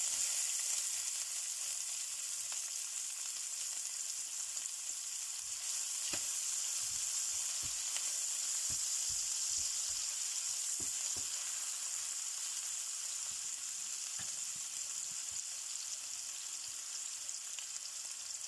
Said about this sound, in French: j'ai ma poêle, j'ai mis un peu d'huile, je vais mettre du sel. Je mets les oignons.